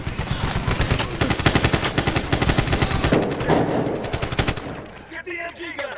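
Rapid machine gun fire from a Medal of Honor firefight in Afghanistan, a loud sustained burst of dense, evenly spaced shots that cuts off near the end, leaving fainter scattered gunfire and noise.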